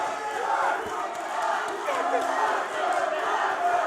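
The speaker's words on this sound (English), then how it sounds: "the whole crowd erupts somehow." A packed fight crowd at an Epic 53 bout, Artur Yun vs. Alex Arechiga, roars in a dense, sustained wall of cheering and yelling that stays loud from start to finish.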